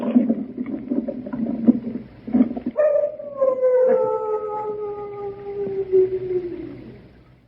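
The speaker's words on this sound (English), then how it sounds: "They keep many dogs, large dogs at the Chateau d'Arze." Large dogs kept at a chateau howl, first in a few choppy barks and cries, then in one long, falling, mournful howl with overlapping voices, moderately near.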